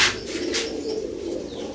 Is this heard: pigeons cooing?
yes